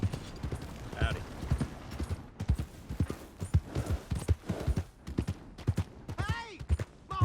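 Rhythmic hoofbeats of a horse in the video game Red Dead Redemption 2, clip-clopping near and clear, with a neigh or whinny breaking through near the end and voices talking over the hooves.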